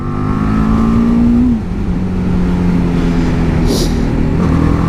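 BMW 310 GS motorcycle engine revving close by, a steady idle that rises and falls in short throttle blips.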